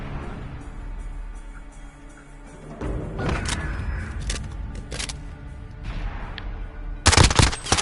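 MP5 submachine gun fire in a Call of Duty match: several rapid bursts of sharp shots, building from scattered cracks to a louder, denser volley near the end.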